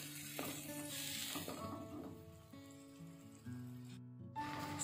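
Fish curry broth for gulai taboh, with about two glasses of water and salt added, comes up to a boil in a steady, gentle sizzling bubble, with soft tonal background music running throughout.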